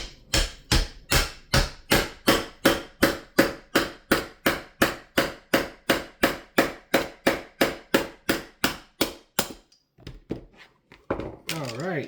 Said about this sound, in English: I might just use my chisel and a hammer